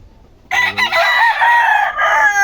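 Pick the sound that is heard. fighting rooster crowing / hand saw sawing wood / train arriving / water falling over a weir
fighting rooster crowing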